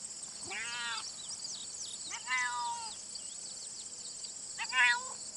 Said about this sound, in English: So Lynx, hey, Lynx, yeah, meow.